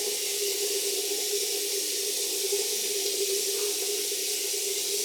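Tap water runs steadily into a sink while a face is rinsed, a constant close hiss and splash with no speech over it.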